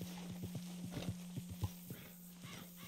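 A horse's hooves clip-clop at a slow, uneven walk in the Red Dead Redemption 2 video game, quiet and close, with a faint whinny among the steps over a low steady hum.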